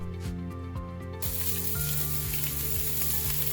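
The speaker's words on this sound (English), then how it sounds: "We'll start by browning the hot Italian sausage that we're using in this soup." Hot Italian sausage starts browning in a soup pot, the sizzle jumping up suddenly and then spitting steadily and close, with no voices.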